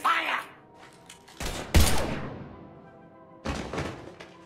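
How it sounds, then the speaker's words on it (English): Gunfire in Mass Effect 3: a few sharp, loud close shots and bursts with echoing tails, separated by brief quiet gaps. "Now open fire!"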